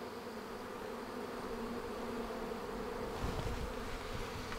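Honey bees buzz around a hive entrance, a steady close swarm hum with a soft bump of movement near the end.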